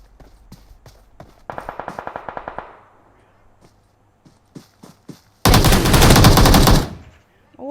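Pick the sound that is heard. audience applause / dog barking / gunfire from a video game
gunfire from a video game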